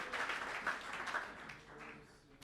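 A church congregation at a Sunday service breaking into applause, a soft, fairly distant wash of clapping that gradually fades out.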